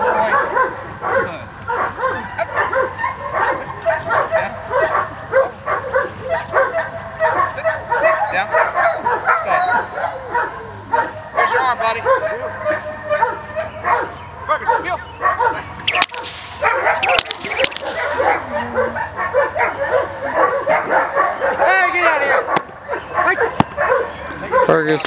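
A young dog of about 65 pounds barks, yips and whimpers during rough play with a person, loud and close in repeated bursts while people talk over it.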